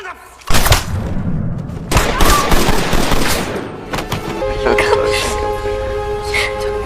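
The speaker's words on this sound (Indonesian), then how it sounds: "Tembakan tadi menembus bahu John dan mengenai organ vital Thomas" A sharp burst of gunfire in a Die Hard film scene cuts in after a brief quiet, followed by loud thuds and tense music, with a voice speaking over the action.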